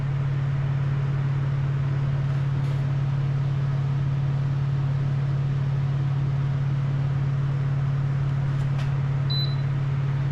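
Lasko ceramic pedestal heater oscillating, giving a steady low electrical hum with a constant fan-like hiss throughout, plus a couple of faint ticks and a brief high beep near the end.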